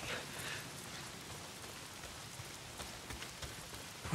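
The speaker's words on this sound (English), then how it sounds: "If it's not the freaks, it's the goddamn rain. Why is it always raining?" Rain in the video game Days Gone, a steady hiss of drops falling on surfaces at low level, continuous and alone, with a few sharper spatters near the end.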